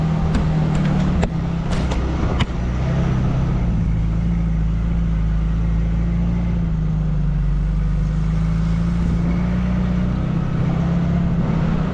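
A Geo Tracker's engine labors steadily in first gear while rock crawling up a steep trail, a low continuous drone up close with a few sharp clunks early on and no talk.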